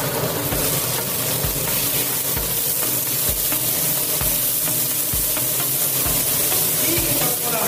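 Peas and white onion fry loudly in a pan, a dense continuous sizzle and steamy hiss with soft stirring knocks pulsing underneath at a steady pace.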